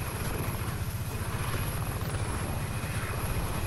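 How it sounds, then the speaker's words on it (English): Helicopter climbing steadily in the StarForge video game, a close, continuous rotor chop with a low rhythmic throb under a thin high-pitched whine. "Kind of funny that you could go into space with this helicopter"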